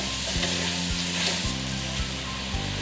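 Garden egg stew with crayfish, salt and beef bouillon sizzles steadily in a pot while a spoon stirs it, scraping in a few regular strokes; no one speaks.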